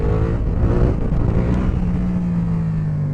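A Yamaha MT-07 motorcycle engine revs during wheelie practice, a loud, steady, close drone whose pitch climbs gently as the throttle is held open, continuing throughout.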